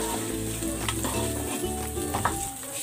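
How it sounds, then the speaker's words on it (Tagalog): Onions sautéing in oil in a pan, with a constant soft sizzle and occasional light scrapes and taps of a stirring utensil, fairly quiet. "Gigisa ko na tong sibuyas"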